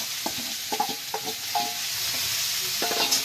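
Ginger and onion paste hits hot oil in a pan where cardamom and cinnamon were already frying, giving a continuous close sizzle broken by several sharp spatula scrapes and stirring knocks.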